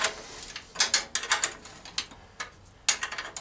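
A ratchet clicks in short bursts while bolts are tightened on a Rover P6 V8 radiator, sharp close metallic ticks coming in uneven clusters.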